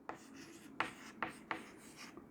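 A teacher writes on a board during a DNA structure lesson: a few soft, quick taps and strokes of chalk or marker, quiet and close, with no talking.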